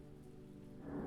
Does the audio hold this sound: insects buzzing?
no